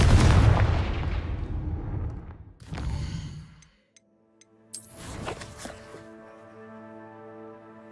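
A Confringo fire spell in Hogwarts Legacy lets off a heavy opening blast that fades, then two sharper bursts follow after a brief gap, each trailing a ringing magical shimmer.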